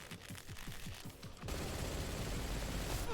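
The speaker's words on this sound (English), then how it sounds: "Ooh, an MG" Rapid machine gun bursts in Metal Gear Solid, sharp repeated shots at first, then a dense, continuous roar of automatic fire with booming impacts, loud and close.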